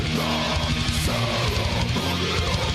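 Dense death metal recording with heavy distorted guitars, pounding low end and busy drums, loud and continuous throughout.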